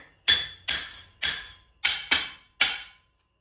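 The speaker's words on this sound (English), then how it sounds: "Just keep hammering that till it bottoms out." Six sharp metallic hammer strikes ring out at a steady pace on a custom driveshaft part held in a vise, hammered until it bottoms out, each blow followed by a brief bright ringing decay.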